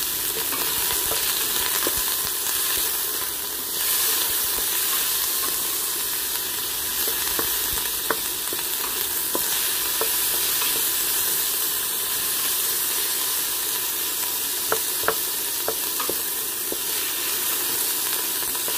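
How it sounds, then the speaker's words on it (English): Onions sauteing in a pan for a Filipino squash and coconut milk stew give a steady, close frying sizzle with light stirring scrapes, continuous throughout with no talking. "Yes, saute for 2 minutes. Then, add po natin yung onion."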